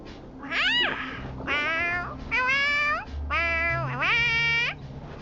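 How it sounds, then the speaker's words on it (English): A small creature in the Honkai: Star Rail game gives four cat-like meows in quick succession, each a clear, close, rising-and-falling mew with short pauses between, heard alone. "Sounds like a cat."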